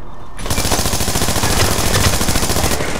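Rapid automatic gunfire from a shooter video game rattles loud and close in a continuous burst lasting nearly three seconds.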